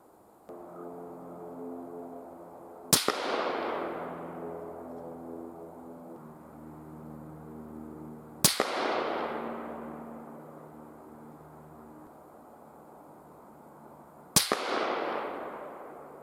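Three loud, sharp rifle shots from a precision rifle during load development testing, spaced several seconds apart, each with a long ringing decay over a low steady hum.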